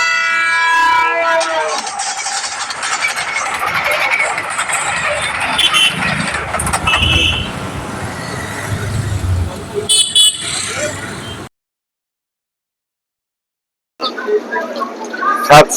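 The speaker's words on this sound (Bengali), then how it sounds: "আসছে 17647 হায়দ্রাবাদ মুম্বাই এক্সপ্রেস।" An Indian Railways express, the 17647 Hyderabad–Mumbai, pulls into a platform as a loud, continuous roar of wheels and engine with a horn blast, then cuts to brief silence before a short burst of station noise.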